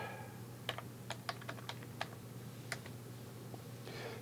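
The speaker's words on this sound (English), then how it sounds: "I'm going to type in sudo PoleMaster, my password," A computer keyboard tapped at an irregular pace, a dozen or so crisp individual keystrokes, faint and close in a quiet room with a low steady hum beneath.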